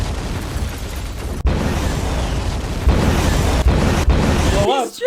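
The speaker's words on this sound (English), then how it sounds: "Did he only download one explosion sound effect?" A repeated explosion sound effect: loud, continuous rumbling blasts with sharp cuts where new booms start, ending in a brief drop and a chirping sound, with speech faintly mixed in.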